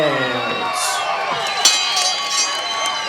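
Fight crowd cheering for fighter Poppies Martinez, the Tachi Kid from Lemoore, California: a loud, steady roar of shouts and whistles that swells and holds for the whole few seconds.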